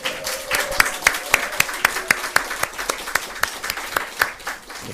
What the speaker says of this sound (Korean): 우리가 먼저 큰 박수로 환영하겠습니다.